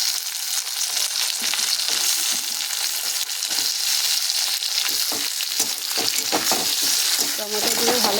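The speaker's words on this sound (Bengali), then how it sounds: "এবার আমি দিয়ে দেবো টমেটো।" Onion and tomato fry in a pan with a steady loud sizzle throughout, ending in a burst of crackling and stirring as the tomato is added to the hot oil.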